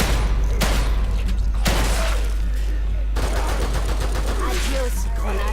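Gunfire from a survival horror video game, The Evil Within 2, with loud repeated shots and bursts over a dense, busy game soundscape, with some speech-like voices mixed in.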